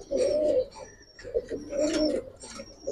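Giribaz pigeons at a pigeon farm coo close by in two drawn-out, throaty phrases with short pauses between them, alone and without talk.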